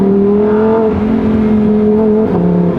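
A Lamborghini Huracan Tecnica engine roars loud and close with sustained revving tones that shift in pitch, ending with a few sharp crackling exhaust pops.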